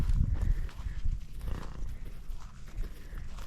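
A horse moves about nearby in search of food, with soft thudding hoof steps, shuffling and low snorting over outdoor background noise.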